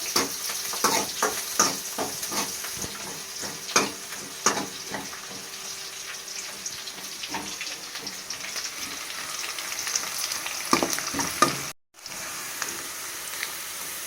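Onions stir-fried in a pan with garlic for a brinjal curry, a steady close sizzle with scattered clicks of a spoon scraping and tossing, briefly cut out near the end before resuming.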